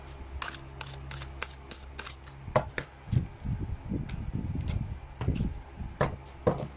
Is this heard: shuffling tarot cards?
yes